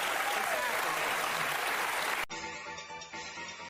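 Crowd applause at a political convention, dense clapping that cuts off abruptly partway through and gives way to a different, music-like sound.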